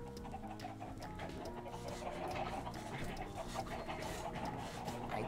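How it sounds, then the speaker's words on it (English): Chickens cluck in the Minecraft game, a steady run of soft clucks and chirps over a faint background hum. "Ooh, the chickens are coming."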